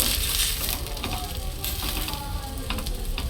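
Mughlai paratha frying in plenty of oil makes a dense, continuous sizzle with crackling pops, close and loud, without talk.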